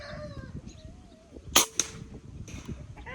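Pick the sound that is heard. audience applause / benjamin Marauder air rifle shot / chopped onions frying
benjamin Marauder air rifle shot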